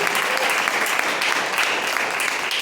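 A church congregation applauding at a Sunday service, dense sustained clapping filling the whole moment, close and loud.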